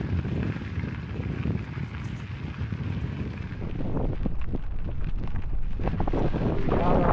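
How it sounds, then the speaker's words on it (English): Strong wind buffets the microphone in the open foothills of the Wind River Range, a constant roaring rumble that grows louder and gustier midway through, with no talking. "It's freaking windy"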